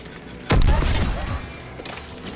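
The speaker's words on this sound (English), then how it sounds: "AA guns ahead of us." Anti-aircraft guns firing in Mass Effect: one heavy, booming blast followed by a rumbling tail, with a fainter second thump a little later.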